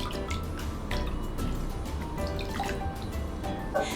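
Soaked potato pieces rinsed in cold water, with irregular splashes, drips and sloshing at a modest level, close up and with no voices.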